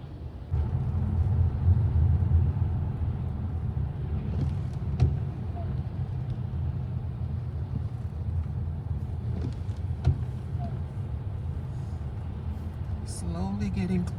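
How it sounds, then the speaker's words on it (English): Cars idle and creep along in backed-up traffic outside an airport, a steady low engine rumble throughout with a couple of faint knocks, like a door or bump, and occasional voices nearby. "Traffic is backed up."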